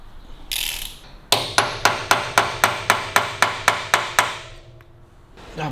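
A ratchet wrench loosens bolts on a Harley-Davidson engine, giving a loud, even run of about a dozen sharp metallic clicks close up after a brief scrape.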